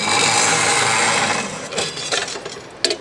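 A saw cuts wood at a TigerStop stop and push feeder station, a loud steady whining cut that fades halfway through, followed by scraping and rubbing sounds and a sharp knock near the end.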